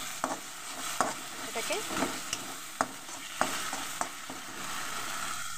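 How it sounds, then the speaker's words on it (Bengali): Masala paste frying in oil for a fish curry, with a steady close sizzle and sharp spoon scrapes and taps every second or so, plus a brief spoken word. "মশলাটা কিন্তু খুব সুন্দর করে ভাজবে তোমরা"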